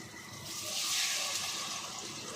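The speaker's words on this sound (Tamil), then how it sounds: "இப்போ வந்து நம்ம தண்ணி ஆட் பண்ணிக்கலாம்." Water from a small vessel poured into a pot of khichdi cooking in a home kitchen, a steady close splashing pour that swells midway and then settles.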